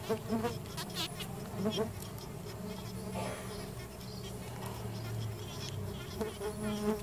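Bees buzz in a dense, continuous drone around an open hive full of honey and brood, close and fairly loud, with individual insects swelling past now and then.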